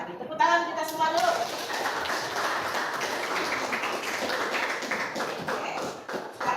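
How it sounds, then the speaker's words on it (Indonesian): A room full of students bursts into sustained, dense clapping that holds steady for several seconds, with a few voices mixed in during the applause. "Tepuk tangan kita semua dulu."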